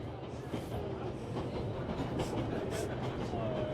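Train cars rolling along the rails in the video game 11-11: Memories Retold, a steady rumbling clatter with faint metallic squeals, continuous and fairly close, no talking.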